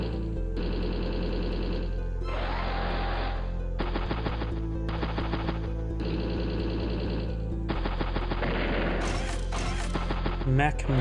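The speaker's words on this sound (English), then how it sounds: "Put some machine gun rounds there." Rapid machine gun fire from a mech unit in Advance Wars: Days of Ruin, bursts of chattering rounds repeating in blocks over a steady looping game soundtrack, with a voice talking now and then.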